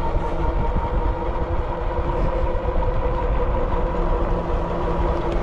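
A 2022 Himiway Escape fat tire moped-style electric bike cruises on throttle alone at about 21 mph, producing a steady wind and road rumble with a faint, even motor whine and no talking.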